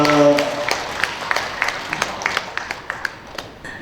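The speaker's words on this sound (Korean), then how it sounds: "우리 광묘 회장님께 큰 박수 한번 부탁드리겠습니다" An audience at a writers' association general meeting applauds the chairman with a run of evenly spaced, fairly close claps, and a voice is briefly heard at the start.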